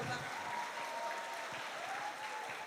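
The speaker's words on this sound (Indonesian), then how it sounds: "Tepuk tangan Jo" A church Christmas celebration crowd claps together in a steady, dense patter that stays fairly even for a few seconds, moderately distant and without talk.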